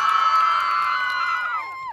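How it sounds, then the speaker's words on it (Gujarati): A crowd lets out a loud, sustained cheering whoop at a grand opening of an immigration office in Nikol, Ahmedabad. It holds for nearly two seconds before trailing off with a falling pitch. "તાળી દેજે જોરદાર।"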